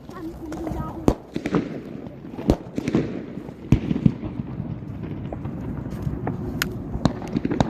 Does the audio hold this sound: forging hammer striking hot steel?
no